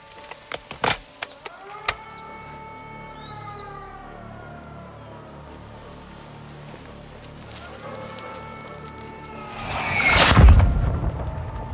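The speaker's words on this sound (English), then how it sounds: "They're launching mortars." Mortar rounds explode in Call of Duty: Modern Warfare 2. A few sharp impacts come early, then a louder, rumbling blast near the end, with a siren-like tone wailing in the background.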